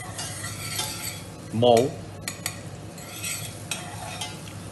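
Onion sautéing in a pan during a vegetable à brás cooking class: a faint, steady sizzle with a brief utensil scrape of stirring partway through, and a short spoken word near the start.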